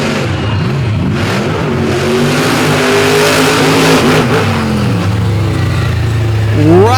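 A GMC and a '57 Bel Air drag race car rev side by side before a championship run at a night meet in Benson, North Carolina, the loud close engine roar building steadily.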